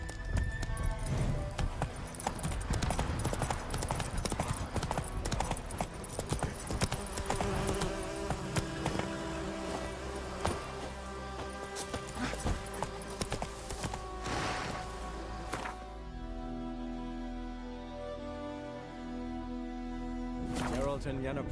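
Horse hooves gallop in a steady clip-clop rhythm through the Witcher 3 game world, sitting beneath a dense bed of game music and ambience, moderately loud throughout before thinning out near the end.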